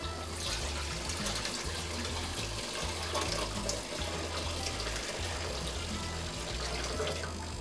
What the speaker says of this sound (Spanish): Vamos a echarle un poquito de agua.